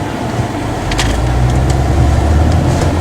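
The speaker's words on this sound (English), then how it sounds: "This is an MKT town car." Inside a moving Lincoln MKT town car, a steady loud low road rumble and engine hum fill the cabin, with a few brief higher clicks or rattles.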